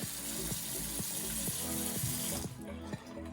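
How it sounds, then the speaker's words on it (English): Water runs steadily from a tap into a sink being fixed after a clog, a broad hiss for a couple of seconds, then cuts off, leaving a faint background with low rhythmic thumps throughout. "I'm gonna turn the water on."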